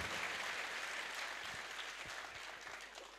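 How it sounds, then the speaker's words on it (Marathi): Audience clapping in applause for a religious guru at a temple anniversary gathering at an ashram, a steady dense patter of many hands held evenly for a few seconds before easing slightly. "एकदा बाबांचं टाळी वाजून अभिनंदन आपण इथं करू"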